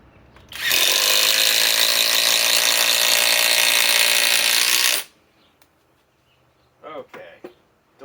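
A Flex compact impact driver on a 3.5 Ah stack lithium battery drives a 4-inch TimberLok screw in one loud, continuous hammering burst of about four seconds, ending abruptly, followed by brief speech.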